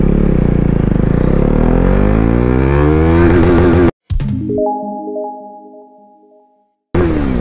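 A Benelli 600i motorcycle revs up loudly in first gear with a rising whine, then cuts off abruptly, and the engine note winds down and fades to quiet before a brief return.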